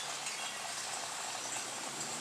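Gasoline drains from the bottom of a 1983 Volkswagen Vanagon Westfalia fuel tank near the fuel filter, with about 2 gallons left, making a steady, faint trickling, bubbling flow throughout.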